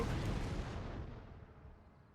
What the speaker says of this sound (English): All of our artillery is practically in range. And they should start firing any second. Oh, there they all go.